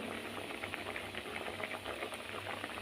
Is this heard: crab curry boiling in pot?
yes